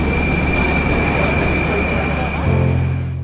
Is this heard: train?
yes